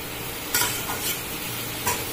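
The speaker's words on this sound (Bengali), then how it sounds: "ফুলকপির সঙ্গে মশলাটা আগে খুব ভালো করে মিশিয়ে নিই।" Fried cauliflower is mixed with spice masala in a hot pan, a constant sizzle broken by three quick scraping stirs of a spoon, close up and free of voices.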